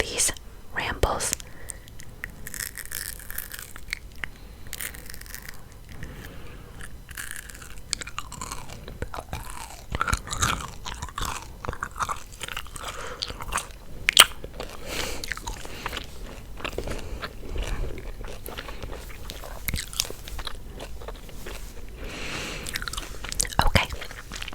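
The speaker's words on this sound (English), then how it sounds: "I'm gonna do some gum chewing" Gum chewed close to the mic with soft wet smacks and crunchy bites, running steadily alongside quiet whispering throughout.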